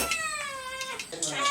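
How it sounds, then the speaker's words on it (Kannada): Cats in a home kitchen, with biryani and manchurian cooking nearby, give several rising and falling meows, close and fairly clear against quiet background noise. "ಬೆಕ್ಕುಗಳು ಕ್ಯೂರಿಯಸ್ ಆಗಿ ನೋಡ್ತಾ ಇದೆ"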